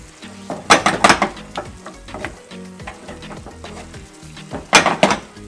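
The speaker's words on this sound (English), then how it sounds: "And just mix it." Sweet and sour pompano sizzles and fries in a pan while being stirred, with loud spatula scrapes and clanks against the metal in bursts over a steady hiss.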